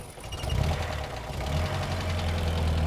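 A car engine turns over and settles into a steady low idling rumble with a faint rhythmic knock, fairly close and without talk.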